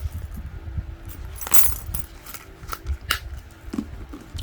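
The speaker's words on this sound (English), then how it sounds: "This is the 6-ring key holder. I keep a copy of my keys inside." Keys jangle in a Louis Vuitton Epi leather 6-ring key holder, with one bright cluster of metallic clinks near the start and a few lighter jingles after it, close and fairly quiet.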